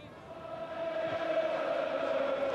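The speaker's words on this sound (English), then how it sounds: "The Brighton crowd finally really getting behind their team" Football crowd at a Brighton & Hove Albion match against Liverpool in 1981 cheers and chants for Brighton, a steady, swelling roar from a big stadium crowd that carries through the whole stretch without letup.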